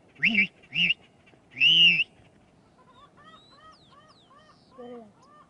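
A person imitates a bird call by filling up with air, giving three loud, honking, goose-like hoots, then softer chirping notes and one last fainter hoot, with no talking over them.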